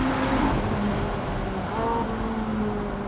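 Ferrari 458 Italia cross-plane crank V8 revving toward 9,000 RPM, a loud continuous engine drone with shifting harmonic tones throughout, close and steady.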